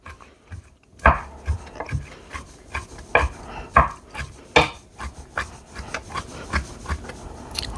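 A knife chops fresh pineapple on a cutting board in steady, close, crisp strokes, each landing as a distinct knock, with no talking.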